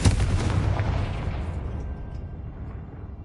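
A Confringo spell explodes in the video game Hogwarts Legacy, a single deep, heavy boom that rolls off and fades over about three seconds, with no talk.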